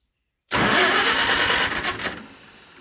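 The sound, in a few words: 1950 Farmall H tractor engine cranking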